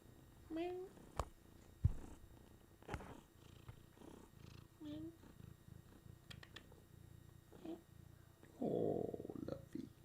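A cat purring close by, with soft rumbling bursts between quiet moments, while a person speaks softly and intermittently nearby.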